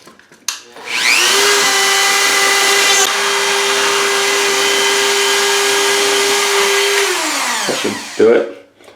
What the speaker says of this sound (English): I use my Dremel to grind that bottom of that board down